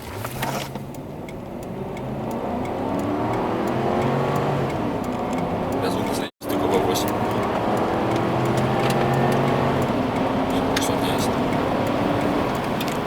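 A Toyota Land Cruiser 200 with a 380 hp engine accelerates hard, its engine and exhaust note climbing through rising gear pulls with one brief shift gap, while someone talks over it.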